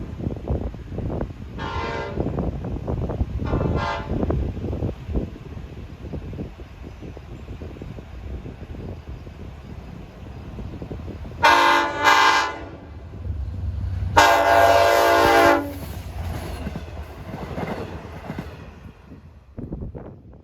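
A passing train on the Montauk Branch sounds two horn blasts, a short one and then a longer one, loud and close over a steady rumble of rail traffic.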